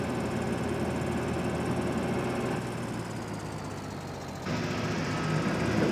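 A tractor engine in Farming Simulator 2013 drones steadily from inside the cab, a continuous mechanical rumble that shifts slightly in tone partway through and then carries on at similar loudness.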